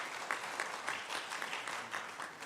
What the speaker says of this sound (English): Please give her a round of applause as we welcome her.